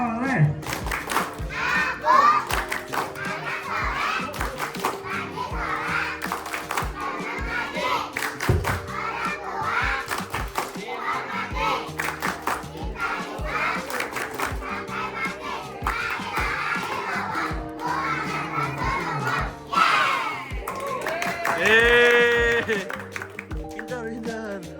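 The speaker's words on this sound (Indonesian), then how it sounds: "Tepuk anak soleh." A group of young children at a PAUD Islamic preschool claps and shouts the Tepuk Anak Soleh chant together, loud rhythmic hand claps mixed with energetic chanted voices, with a few higher squeals near the end.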